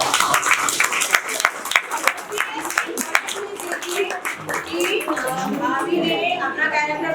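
Audience clapping for the lead actress of a Hindi stage play, Budhi Kaki, a steady burst of applause that builds and then fades as a speaker's voice continues over it.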